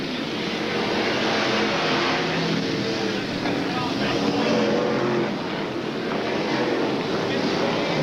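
Several F1 stock cars race around the Brandon Stadium oval in Coventry in 1981, their engines a dense, continuous roar with wind buffeting the microphone, beneath steady commentary.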